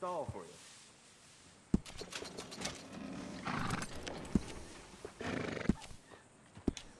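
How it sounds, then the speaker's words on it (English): A horse in the video game Red Dead Redemption 2 gives a short whinny at the start, followed by scattered hoof clops and thuds over ambient game sound, with people talking through much of it. "That's a fine steed."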